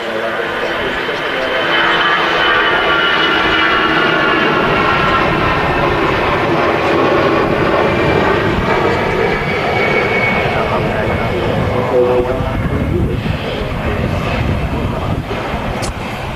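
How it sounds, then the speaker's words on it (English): Lufthansa Airbus A320 jet at a windy Manchester Airport, a loud sustained engine roar with wind noise, steady throughout while people talk over it. "Sorry, it's a Lufthansa."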